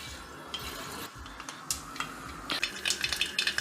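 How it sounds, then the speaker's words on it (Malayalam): Mustard seeds dropped into hot coconut oil spit and pop in scattered sharp bursts over a steady sizzling hiss, the crackles growing denser toward the end. "നമുക്ക് കുറച്ച് കടുക് ഇട്ട് കൊടുക്കുക ആദ്യം."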